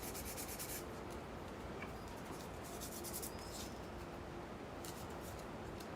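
Wet sanding cedar wood with 1000 grit sandpaper: a continuous close scratchy rubbing with quick back-and-forth strokes, fairly quiet and steady throughout.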